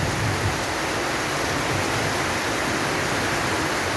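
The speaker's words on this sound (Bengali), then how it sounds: "কখন বৃষ্টি থামবে এখনো জানতে পারছি না, বুঝতে পারতেছি না আর কি কখনো বৃষ্টি থামবে।" Steady, dense rain falls on a village around midday, a constant loud hiss with no pauses or voices.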